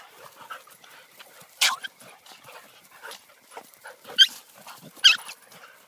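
Several dogs in a pack out on a walk yelp, yip and whimper while playing roughly together, giving a scatter of sharp, fairly close cries with a couple of louder yelps near the end.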